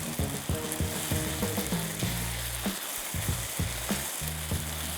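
Chicken stir fry sizzles steadily in a pan as sauce thickens, with scraping stirring strokes and faint background music under the continuous frying hiss.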